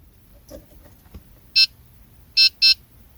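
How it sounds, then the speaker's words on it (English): After a few soft clicks, a 2019–2021 Honda Clarity gives a single sharp electronic beep during key fob programming, then two loud beeps in quick succession. "When you hear the two beeping sound, switch the ignition off."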